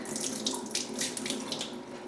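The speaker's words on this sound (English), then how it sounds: "So pour off that water. Add more clean water." Tap water runs and splashes into a pot while rice is being rinsed at the kitchen sink, a steady close rush with uneven gurgling bursts and no talking.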